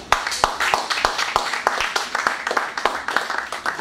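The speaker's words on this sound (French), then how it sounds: "Applaudissez ma soeur." Church congregation at a Sunday service clapping together in a steady rhythmic beat, lively and fairly close, with voices mixed in.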